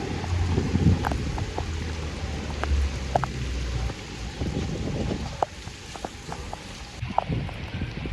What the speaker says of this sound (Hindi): लेकिन यहाँ पे इंतहा बारिश है।